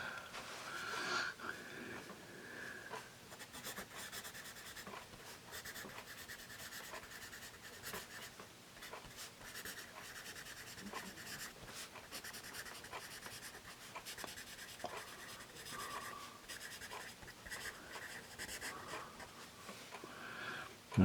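Continuous soft scratching and rubbing of an American-made Richard Best GMC #1 pencil on paper, close and quiet, with small irregular strokes throughout.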